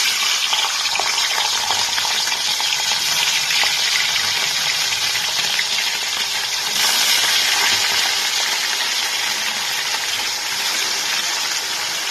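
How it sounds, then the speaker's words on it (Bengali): Rohu fish fry in hot oil, giving a loud, dense, rushing sizzle close by that swells slightly midway and holds steady without any voices. "তেল গরম হয়ে গেছে এবার আমি মাছগুলোকে ভেজে নেব"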